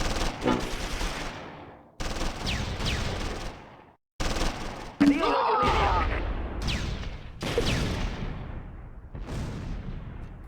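A support line opens fire in the Close Combat 3 Stalingrad war game, long bursts of rattling gunfire repeating in several volleys with short gaps, mixed with distant booms.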